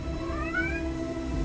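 A cat meows in a drawn-out rising cry inside the game Amsterdam 1666, heard clearly over a steady ambient hum with no talking.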